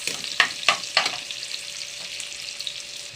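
Garlic and onions sauté in a pan for a Filipino sinigang dish, with a few sharp clacks of stirring up front and then a soft, steady sizzle close by.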